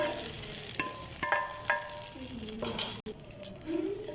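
A golden flour mixture is poured over chicken nihari in a pot. A soft sizzle and stirring come with a few clinks of a utensil against the pot, close by.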